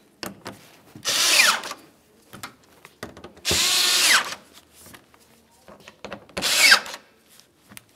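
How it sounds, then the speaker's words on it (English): Power drill driving T30 screws along the top of a 2005-2010 Dodge Dakota front bumper cover, three separate whirring bursts of about a second each, close and loud, with small handling clicks and rustles between. "Along the top of the bumper cover, we'll continue to those T30 screws."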